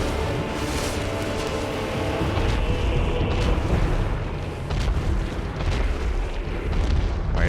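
A giant fire-shooting lava creature bursts apart on death in Dark Souls Remastered, a loud, sustained rumbling roar of booming blasts that rolls on for several seconds with no voices over it.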